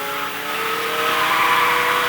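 A Ferrari 488 Challenge Evo race car driving on the track at Speed Vegas, its engine note climbing steadily in pitch as it accelerates, loud and close, with no talk over it.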